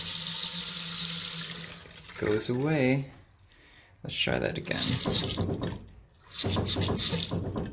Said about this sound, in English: we had a water hammer issue